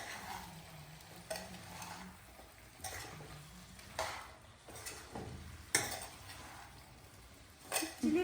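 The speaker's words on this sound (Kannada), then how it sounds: "ಅದನ್ನೆಲ್ಲ ಚೆನ್ನಾಗಿ ಕಲಸಿದ್ಮೇಲೆ ಫ್ರೈ ಮಾಡೋಣ" Spices mixed with chicken being stirred and fried in a pot, soft sizzling broken by repeated scraping strokes of a spoon at an irregular rhythm, quiet and close.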